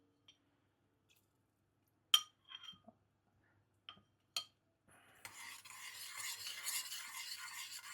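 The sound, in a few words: stirring cornstarch slurry into hot teriyaki sauce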